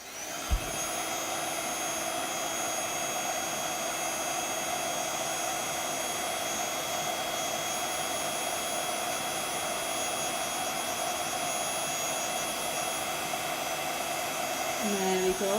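A heat gun blows a loud, steady roar close by while melting silver embossing powder on a card, a continuous broadband whoosh running the whole time with no talk over it.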